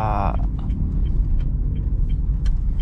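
A manual car's engine rumbles steadily at low revs, under 2000 RPM, as the driver shifts into third gear. The low drone holds loud and close, with light clicks and knocks from inside the cabin.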